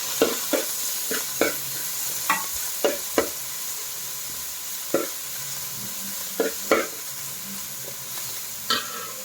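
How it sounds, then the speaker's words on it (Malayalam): Sliced onion, coriander, mint and curry leaves being sautéed in a pan for beef curry: a steady low sizzle broken by repeated sharp scrapes and knocks of a spoon, close by, with no talking. "അതിലോട്ട് നമുക്ക് സവാള മല്ലിച്ചീര പുതിനയില വേപ്പല ഇത്ര സാധനം ഇട്ട് കൊടുത്ത് വഴച്ചാട്ട നല്ലോണം"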